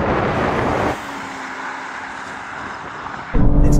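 A BMW M240i, Audi RS3 and Mercedes-AMG CLA45 S drag racing: a loud, steady engine roar and rush of wind that drops to a lower drone with a faint whine, then swells again sharply at the end.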